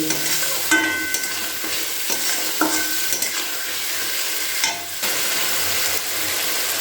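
Masala loosened with a splash of hot water and stir-fried for dhaba-style egg tadka, sizzling loudly and steadily with several distinct spatula scrapes against the pan and no talking.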